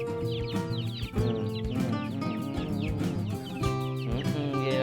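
Chickens, including a pelung rooster, clucking and calling close by in a coop, with overlapping tonal calls and chatter continuing throughout.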